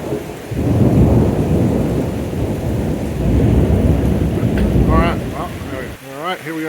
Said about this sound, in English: A big Andean thunderstorm that's rolled in. And seems to be right above us.